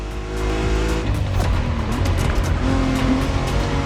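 Racing cars in The Crew Motorfest drive steadily up close, engines droning continuously with occasional tire squeal, and no talk over them.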